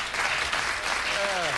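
Studio audience on a late-night talk show giving a brief mercy clap, a dense wash of many hands clapping, with a voice faintly heard under it near the end.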